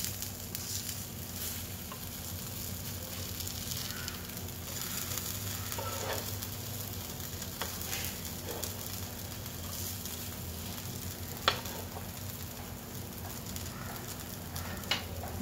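Rice flour pancakes sizzle on a nonstick pan, a low, even frying hiss that continues throughout with a few faint clicks from the spatula.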